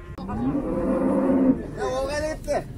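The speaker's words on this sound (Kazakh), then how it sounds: "Міне тайыншалар" A young bull moos loudly and close by at a livestock market in Zharkent, Kazakhstan, in a long drawn-out low call, followed by a shorter second moo.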